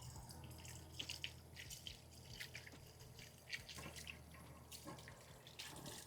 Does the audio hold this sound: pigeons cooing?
no